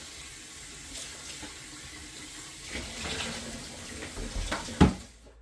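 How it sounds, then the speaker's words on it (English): A bucket of aquarium water from a koi fry tank is poured down a sink, giving a steady rush of water that grows louder toward the end, finishing with a sharp splash before cutting off. "first bucket goes down the sink"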